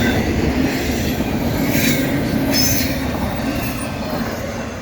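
A CSX intermodal freight train led by an AC44 locomotive rolls past close by in New Castle, with a continuous loud rumble of railcars and faint wheel squeals on top.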